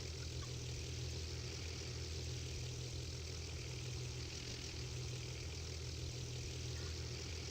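An aircraft engine in a flight simulator video game drones steadily while taxiing, a constant low hum and whir with no break and no talk over it.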